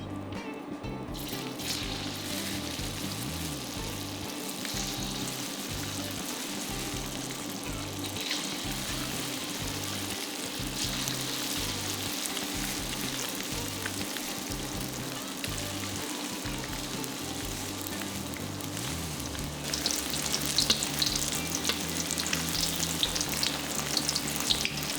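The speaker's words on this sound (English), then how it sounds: "Fry both sides of your tofu till they are golden brown." Tofu frying in a generous layer of oil in a small pan, a steady loud sizzle throughout that swells brighter and harsher near the end.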